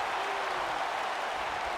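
Steady roar of a wrestling arena crowd in WWE 2K19 during a Women's Battle Royal, a dense, continuous wash of cheering and applause with no clear breaks.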